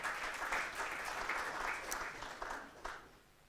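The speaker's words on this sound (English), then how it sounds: "A round of applause for Dr." An audience at a 2015 Africa research summit applauds, a fairly faint, distant wash of clapping with a few sharper claps standing out before it tapers off.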